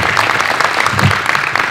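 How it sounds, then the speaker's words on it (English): A dense round of applause from a baseball clinic audience welcoming a guest, continuous and loud with no speech over it. "So everybody give a nice round of applause for Jesse Biddle"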